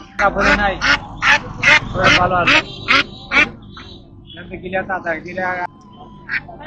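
Ducks for sale at the century-old KamarKhond village market quack repeatedly in loud, rapid bursts close by, with a few pauses and softer calls toward the end; people may be talking underneath.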